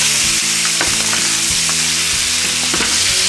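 Chicken thighs sear in a hot pan with a loud, dense, steady sizzle and occasional scraping stirs, close up and without speech.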